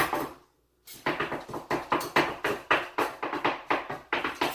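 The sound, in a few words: chopping a muffin on a hibachi griddle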